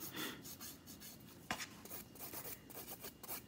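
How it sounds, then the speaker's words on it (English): A nail file rasps lightly over acrylic pink-and-white nails in quick, close strokes, soft rhythmic scraping with one sharper tap. "Do you want to watch me keep filing?"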